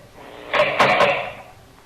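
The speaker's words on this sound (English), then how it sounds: "guard, open the cell door." A prison cell door opens as a radio drama sound effect, a loud metallic sliding rattle with a few sharp clanks, close up and alone.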